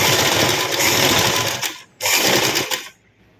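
Loud, close sewing machine stitching fabric in two rapid buzzing runs with a short pause between them, then silence.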